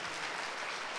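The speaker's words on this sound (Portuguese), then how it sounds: "dê uma salva de palmas a Jesus." A church congregation at a Sunday service applauds, a brief, fairly quiet wash of many hands clapping heard from some distance.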